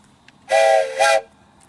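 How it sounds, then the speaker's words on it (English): A train whistle sounds twice as the train leaves Heislerville Station, one longer blast followed by a shorter one, loud and clear over quiet background noise. "The train is leaving now"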